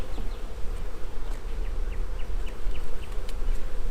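Honeybees buzz steadily around an open hive during a summer inspection, a dense close droning with individual bees zipping past, loud and continuous with no talk.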